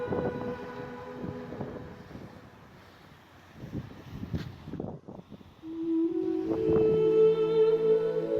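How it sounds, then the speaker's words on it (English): Strong wind by a harbour wall buffets and rumbles in gusts, joined by a deep steady horn-like drone, with low thumps and clatter nearby. "A few hours later and the wind had really picked up."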